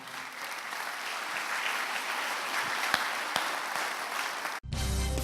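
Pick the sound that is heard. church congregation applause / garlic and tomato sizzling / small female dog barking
church congregation applause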